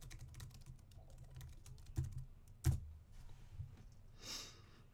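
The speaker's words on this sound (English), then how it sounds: "type in your company name" Quiet clicking of a computer keyboard as a name is typed, irregular light keystrokes with a couple of sharper taps, close by with no talk.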